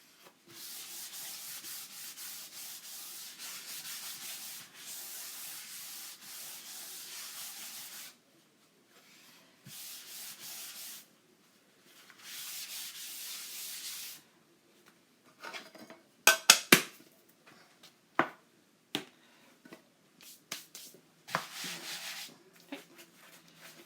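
Wax is rubbed by hand onto a wooden board in several bursts of soft, scratchy strokes with short pauses between them. Scattered light clicks and taps follow, quiet and close, with no voices.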